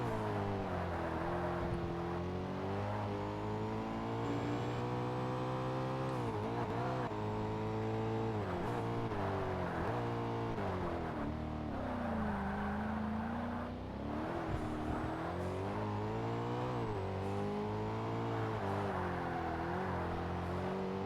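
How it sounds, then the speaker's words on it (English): Chrysler race car engine in Forza Motorsport, a loud steady racing drone with shifting pitch as gears change, continuous and close throughout, like a car running right behind during a last-lap S Class championship race. "Here comes the Chrysler."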